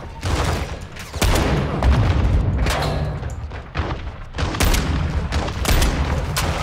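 Gunfire in Call of Duty Modern Warfare II, loud bursts of rapid shots and booming blasts crowding together continuously, with dense layered combat noise and no pauses.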